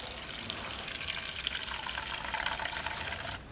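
Water pouring from the outlet pipe of a diode laser machine, a steady close splashing rush that runs continuously and stops abruptly near the end.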